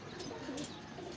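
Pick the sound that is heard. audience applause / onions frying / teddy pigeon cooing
teddy pigeon cooing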